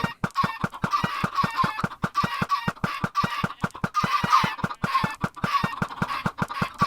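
Many chickens clucking in the video game Minecraft, a loud, rapid, overlapping stream of clucks with steady rhythmic thuds underneath, continuous and close throughout.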